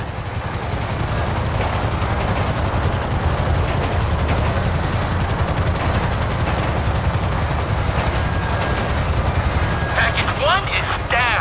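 Helicopters in the video game GTA V give a continuous rotor chop with rapid gunfire mixed in, loud and steady, with a few sharp electronic chirps near the end.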